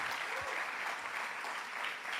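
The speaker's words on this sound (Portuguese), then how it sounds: "Você pode aplaudir o nome de Jesus, porque Ele é bom" Congregation applauding during a church service, a continuous even roar of many hands clapping at moderate distance, with no break across the short stretch.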